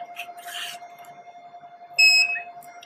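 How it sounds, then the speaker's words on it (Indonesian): Electronic buzzer on a microcontroller colour-sensor counter giving one short, sharp beep about midway, loud and close, over a steady electrical hum in a quiet room. "Setelah terbaca dia ada bunyi buzzer"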